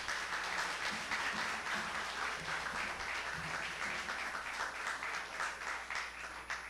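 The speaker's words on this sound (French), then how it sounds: "Je vous demande de les applaudir chaleureusement" Warm applause from a church congregation for the priests at a Sunday 4 PM Mass marking a men's choir anniversary, steady and dense throughout, moderately distant with a faint murmur of voices.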